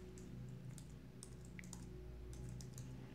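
Typing on a computer keyboard, with soft scattered key taps over a steady low background hum, fairly faint and irregular.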